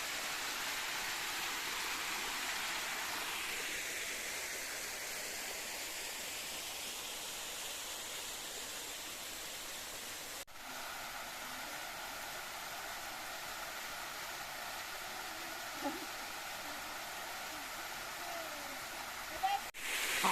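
Bisay Falls in Sual, Pangasinan pours in a continuous, even rush of white-noise water, steady and fairly soft from start to finish with no breaks.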